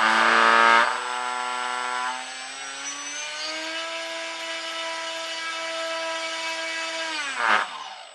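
A 2822 brushless motor rated 1200 kV spins an APC-style 8x4 propeller on a thrust test stand. It spools up to a steady, loud whining drone that holds for several seconds, then winds down near the end.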